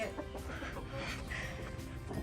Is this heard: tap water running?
no